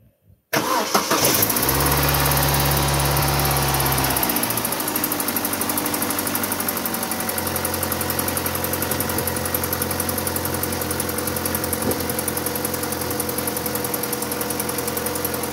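An Opel Astra G coupé Bertone cranks for a few seconds with the starter whirring, catches, and settles into a steady, close idle with a faint recurring tick, with no talk.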